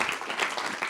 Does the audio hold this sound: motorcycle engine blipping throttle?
no